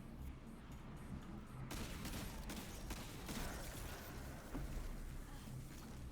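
In the video game Destiny's K1 Revelation Lost Sector, enemy gunfire crackles in bursts over a dense, rumbling wash of game sound, quiet and distant-sounding.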